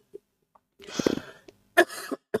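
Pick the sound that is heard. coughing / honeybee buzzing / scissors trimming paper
coughing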